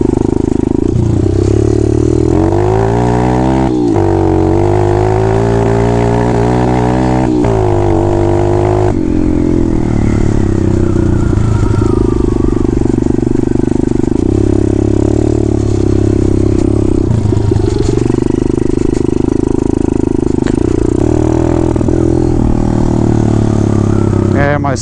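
A Kawasaki KLX 110 pit bike with a 143cc big bore kit runs across dirt, its engine droning steadily with rises and falls in revs, close and loud, while a person talks over it.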